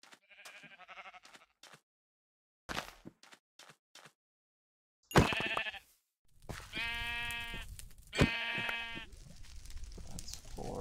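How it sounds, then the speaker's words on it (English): Blocky video-game sheep on a farm give a few loud, close, drawn-out bleats. Scattered clicks and game sounds come first, with short silences between them. "Sheep, sheep, sheep, sheep, sheep, sheep."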